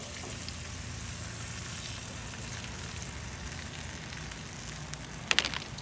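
Butter and button mushrooms sizzle steadily in a skillet set on a Weber gas grill, a dense, even crackle holding for the full span, with a brief louder clatter near the end.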